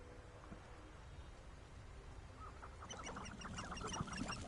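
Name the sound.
chickens clucking in the video game Hogwarts Legacy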